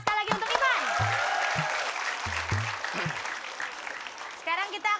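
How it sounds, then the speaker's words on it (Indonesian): Studio audience applause on a Indonesian comedy game show, a burst of clapping under and between a host's lively talk, fairly close and moderately loud. "Tepuk tangan sekali lagi untuk Ipan."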